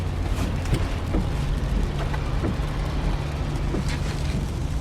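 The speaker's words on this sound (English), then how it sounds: "This is the sound of your ride home with Dad after he caught you vaping." Car ride home with steady engine hum and road rumble from inside the cabin, continuous and moderately loud with no talking.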